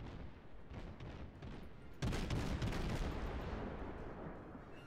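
Naval guns fire in World of Warships around a cruiser Chester, starting as low distant rumbling and swelling into a heavier boom of rolling shots midway, with no speech.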